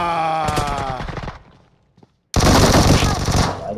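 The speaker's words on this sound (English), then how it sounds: "The other one I just got shot at." Loud automatic gunfire in the mobile battle-royale game PUBG Mobile: a rapid burst follows game music, then a short silence, then a second sustained volley, close and dominant.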